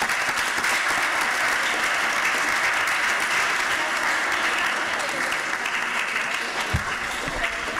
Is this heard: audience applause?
yes